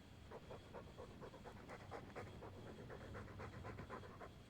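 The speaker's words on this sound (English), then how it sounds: "All that noisy dog breath" A dog pants rapidly and steadily close by, quick rhythmic huffs of breath carrying on without pause and with no voices over them.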